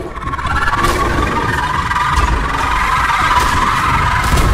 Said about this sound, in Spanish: Desagradable el grito